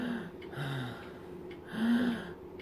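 A person demonstrates shallow chest breathing with a few quick, close, audible gasping inhales and exhales, quiet and spaced out, with no talking.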